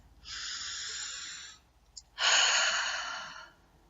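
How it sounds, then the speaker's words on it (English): A single deep breath taken close by, a long audible inhale followed after a brief pause by a fuller, louder exhale, with no talk over it. "and then you take a deep breath."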